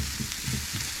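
Vegetables and mushrooms sizzle steadily in a hot pan, a dense crackling hiss with soft stirring scrapes, heard alone and up close.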